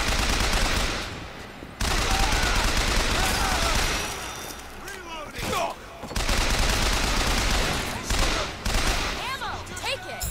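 Dense, sustained gunfire from the shooter Bioshock Infinite, heavy overlapping volleys that are loud and near and broken by a few short lulls, with voices talking beneath the barrage.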